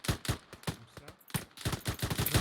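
Rapid bursts of gunfire from a tactical shooter video game, suppressing fire in a training session, sharp close shots in quick irregular volleys with brief gaps, heard alone.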